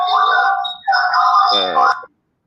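A phone ringtone sounds during an online career seminar, a steady electronic melodic tone playing loudly for about two seconds with a brief dip midway, then cutting off abruptly.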